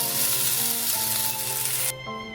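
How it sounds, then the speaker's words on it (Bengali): Water spinach fries with poppy seeds in a pan, a loud, steady sizzle that runs unbroken and drops off sharply near the end, with a faint tonal hum underneath. "পোস্ত দিয়ে আরও কিছুক্ষণ ভাজার পর নামিয়ে নিচ্ছি।"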